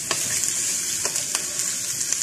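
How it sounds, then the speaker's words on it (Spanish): Beef fries in a pan with garlic and onion, a bright, steady sizzle up close with a few sharp stirring scrapes and pops, no talking. "Que se fría bien la carne."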